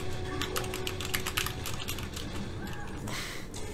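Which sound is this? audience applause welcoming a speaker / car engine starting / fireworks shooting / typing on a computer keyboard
typing on a computer keyboard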